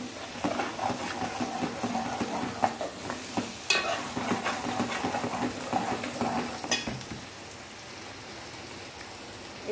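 Tomatoes simmer and sizzle in a pan for a spicy pamphlet fish curry, with irregular utensil taps and stirring scrapes over the crackle, which quiets toward the end; no voices.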